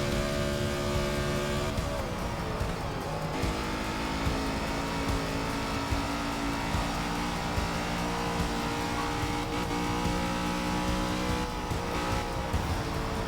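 NASCAR stock cars in the Forza 6 racing game hold a steady, loud engine drone throughout, with shifting pitch as the car accelerates and brief tire noise, alone without talk.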